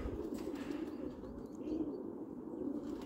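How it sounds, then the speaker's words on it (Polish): Pigeons in a loft in spring, males cooing among the flock, a continuous low murmuring coo with soft wing flutters and faint chirps, close and steady throughout. "jest strasznie głośno w tym gołębniku, jak w ulu. Zaczynają samce gruchać"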